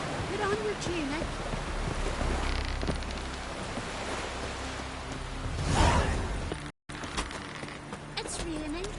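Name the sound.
rain in video game Witcher 3: Wild Hunt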